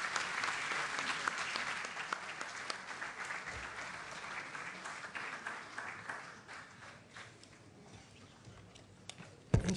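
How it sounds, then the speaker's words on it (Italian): Audience applause at a World Day Against Drugs event in Rome: a dense, steady wash of clapping fills the whole stretch and fades slightly toward the end, with a sharp closing burst. "un grande e sentito applauso per il vostro coraggio"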